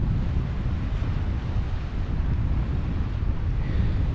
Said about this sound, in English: this wind has really picked up.